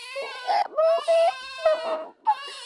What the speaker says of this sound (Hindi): मम्मी ये बच्चे की रोने की आवाज कहाँ से आ रही?